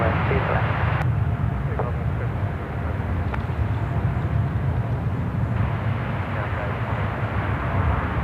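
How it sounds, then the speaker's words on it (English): An Airbus A380 at Sydney Airport produces a broad, steady jet rumble and roar, with faint voices faintly heard beneath it. "There's the A380."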